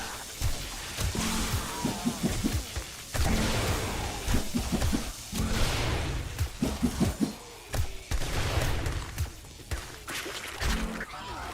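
Turrets firing in a video game running the Rebirth mod, bursts of dense thumping and crashing shots that start and stop in clusters, loud and close, separated by brief lulls.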